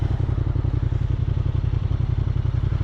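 A Honda TransAlp XL750 motorcycle engine idles in first gear, a close, steady, rapid throbbing pulse with a low rumble and light mechanical clatter throughout.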